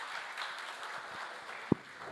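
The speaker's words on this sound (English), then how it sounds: "let's give a round of applause to Robert and Mihai" Soft, thin applause from a conference audience for panel speakers at a tech event in Berlin, with a single sharp thump near the end.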